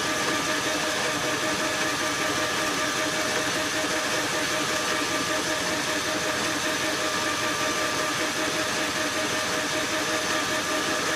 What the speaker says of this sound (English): Over here I'm turning at 780 RPM. That's because this is no VFD on this lathe